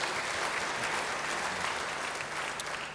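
Steady, dense audience applause fills a church service, a continuous wash of clapping from a large congregation, loud and close throughout with no speech over it.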